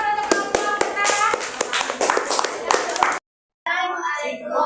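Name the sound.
class applauding the first group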